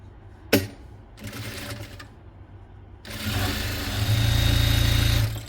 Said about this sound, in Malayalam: അതിലേക്ക് മറിച്ചിട്ടിട്ട് ഇങ്ങനെ ക്ലോസ് ചെയ്ത് തയ്ച്ചു കൊടുക്കുക.